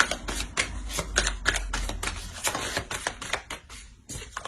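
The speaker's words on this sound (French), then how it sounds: "Je vais rajouter une carte sur le 9 d'épée." A tarot card is drawn from the deck and laid down, with quick papery flicks, taps and shuffling rustles up close in a brief flurry and no speech.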